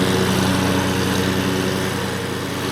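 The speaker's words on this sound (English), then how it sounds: "that is a signal for all the lawnmowers to come out" Lawn mowers run steadily in a state park, a constant near engine drone with a buzzing hum that holds at even loudness throughout with no talk.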